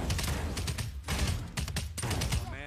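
Bursts of gunfire from the online game Anarchy 77 crackle in rapid fusillades with brief pauses between volleys, fairly loud, with a player's voice sounding in places.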